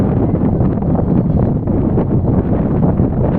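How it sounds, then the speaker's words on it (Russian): Strong wind buffets the microphone at an outdoor archery competition in Yakutsk, a loud, continuous low roar with gusty fluctuations and rustling, no voices heard. "Ветер очень сильный."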